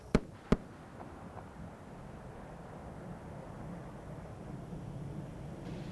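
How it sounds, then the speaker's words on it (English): Twin sonic booms from space shuttle Atlantis arriving on its final reentry before landing at the launch site: two sharp, loud cracks in quick succession, followed by a low, steady rumble of ambient noise. "the space shuttle announces its arrival at the launch site with its signature sound of twin sonic booms"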